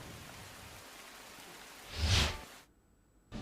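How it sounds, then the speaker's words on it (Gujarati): Heavy rain falls over Morbi, Gujarat, as a steady, dense hiss that swells into a brief louder surge before dropping away abruptly. "મોરબીમાં આજે સવારથી જે રીતે ભારે વરસાદ વરસી રહ્યો છે"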